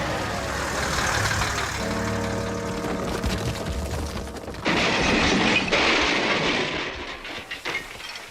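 A loaded quarry lorry carrying rock rumbles along a rough steep road, then a sudden loud crash and clattering bursts out and fades into scattered debris.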